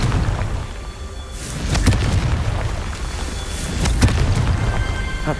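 Spell explosions from Confringo and Bombarda in Hogwarts Legacy, heard as a few heavy booming blasts, around two seconds and four seconds, over a constant low rumble of combat ambience with no talking.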